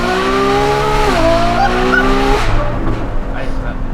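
A Novitec-tuned Ferrari F12 N-Largo revs loud and close, its engine note rising in pitch, holding, then dropping away into a rumbling idle.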